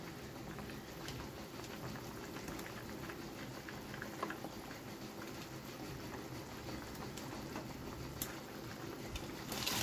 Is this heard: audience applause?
no